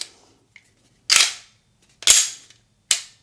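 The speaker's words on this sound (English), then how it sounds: "Make sure that locks back too. Let's put the mag in there just to make sure," A SIG P320 X5 Legion pistol is handled up close, with three sharp metallic clacks spaced about a second apart as the slide locks back and a magazine seats, in a quiet room without talk.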